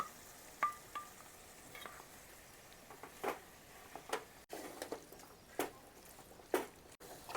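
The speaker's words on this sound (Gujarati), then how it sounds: "આપણા બટેટા વઘારાઈ જશે." Boiled potatoes and peas sautéed and stirred in a pan for a Gujarati village-style dish, with faint intermittent scraping and soft sizzling as a spoon moves through, quiet and sporadic without talk.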